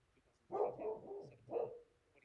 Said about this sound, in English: Our dogs are loving to bark when I stream lately